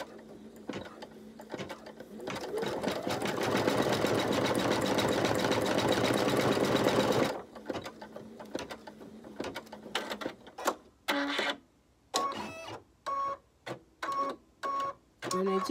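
An embroidery machine stitches a bunny table centre design, a loud steady mechanical chatter for about seven seconds, then shorter stop-start bursts of stitching with brief pauses and beeps.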